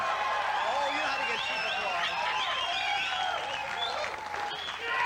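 Studio audience applause on a 1990 late-night talk show, a dense sustained clapping from a large crowd throughout, with a host's voice talking over it.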